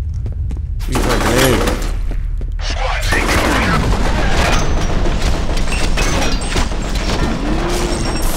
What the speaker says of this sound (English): I am sniping him with a shotgun